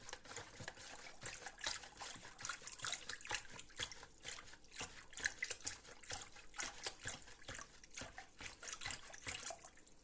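A whisk stirs salt into water to dissolve it, giving quiet, irregular liquid splashes and trickling clicks in quick succession, close and soft, with no talking.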